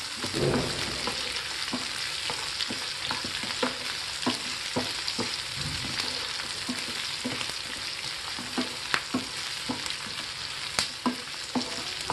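Large chunks of vegetables for soya Manchurian stir-fry on a high flame, producing a loud, steady sizzle broken by regular clicks and scrapes of stirring.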